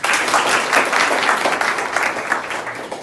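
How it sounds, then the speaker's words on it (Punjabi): A crowd of government high school students claps in sustained, dense applause, loud and close, with no voices standing out. "ਤਾੜੀਆਂ ਮਾਰਦੇ ਕਰੋ ਬਈ"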